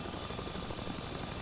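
A helicopter in the PvP survival game The Front drones steadily with a dense, continuous rotor and engine roar, close and constant throughout with no talk.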